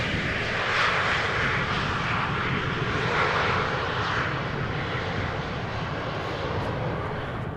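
KLM Embraer 190 jet arriving at Amsterdam Schiphol Airport, a steady broadband engine roar at moderate distance, sustained without a break.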